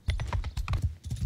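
Horse hooves clip-clop rapidly in a video game, a quick, even run of hollow knocks close up for about a second with no voices.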